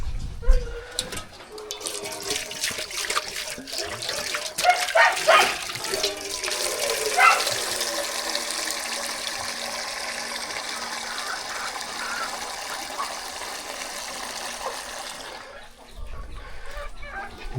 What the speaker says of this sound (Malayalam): ആദ്യം അവന് വെള്ളം കൊടുക്കട്ടെ